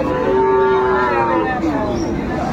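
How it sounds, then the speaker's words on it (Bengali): A cow moos loudly and close at a cattle market in Aftabganj, Dinajpur, with one long sustained low call that bends in pitch near the end, set against a steady crowd murmur. "গাভী বাছুর আমরা দেখছিলাম।"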